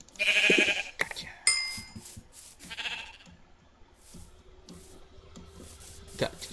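Sheep in a video game bleating loudly near the start and again a couple of times, short wavering cries mixed with clicks and game interface sounds, with quieter ambience between.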